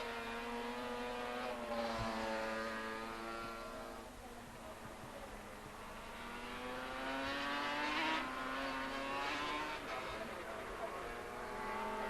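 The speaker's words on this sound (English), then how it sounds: "Twin crankshafts on these V4 Yamahas with about 155 horsepower, phenomenally light bikes." Race motorcycles at the 1987 Suzuka road race, twin-crankshaft V4 Yamahas of about 155 horsepower, wail past with high engine tones that rise and fall, heard continuously for several seconds under commentary.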